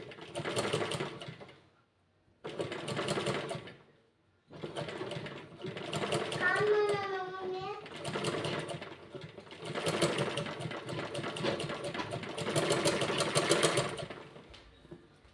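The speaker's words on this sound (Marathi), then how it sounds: "इथे आता एक मी शिलाई टाकते डायरेक्टली बघा क्रॉसपट्टीतला फरक तुम्हाला कळेल" A sewing machine stitches the cross strip onto a four-tuck blouse, running in several close, steady bursts separated by short pauses, with a rising whine partway through.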